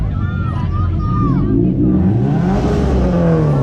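A car revving at a car show with a Subaru BRZ nearby, the engine note rising and falling loudly beneath constant crowd chatter and nearby voices.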